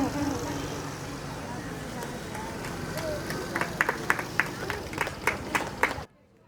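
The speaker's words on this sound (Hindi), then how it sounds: "मोहम्मद हमजा, जोरदार तालियां शुरू के लिए।" Audience applause at a school annual achievement award function, a steady crowd murmur with some claps building to a run of sharp, separate handclaps near the end before cutting to silence.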